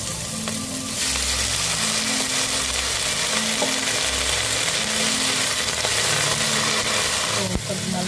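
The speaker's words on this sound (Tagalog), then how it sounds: "luncheon meat, pwede na natin igisa ngayon" Luncheon meat sautéing in a pan for a Filipino soup, a loud continuous sizzle close by with occasional stirring clinks, while someone talks over it.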